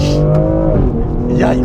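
BMW X3 M Competition accelerating at full throttle, a loud engine note climbing in pitch and then easing as the car surges, with a person talking over the cabin sound.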